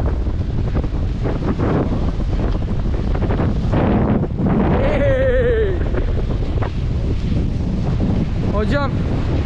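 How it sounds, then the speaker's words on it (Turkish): Strong wind roars across the microphone at the Akyaka kite beach, a loud constant buffeting rumble with surf-like wash and brief whistling tones on top. "Vallahi rüzgar sağlam."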